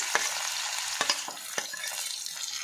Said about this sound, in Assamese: তাৰপাছতে মই কাটি লোৱা নহৰুখিনি ভাজি ল'লোঁ